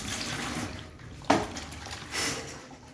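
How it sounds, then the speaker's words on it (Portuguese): Tap water runs into a sink to rinse small hoe-like mixing tools used for stirring construction material, a steady close rush with a brief splash and a surge near the end, no talking. "Pego um pouquinho d'água para lavar aqui, que não é muita."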